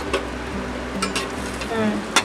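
Sweet kochuri stuffed with chhana fry in hot oil, a soft bubbling sizzle under brief stirring clinks and scrapes, moderately close and steady over a short stretch.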